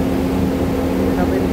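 Steady, loud low engine drone of a tugboat in the port of Buenaventura, Colombia, a constant close rumble with a strong humming tone and no break across the short stretch.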